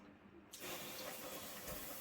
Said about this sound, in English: Just put water on it.